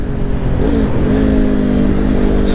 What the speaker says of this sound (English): you'll know that you did a rev match correctly when you hear it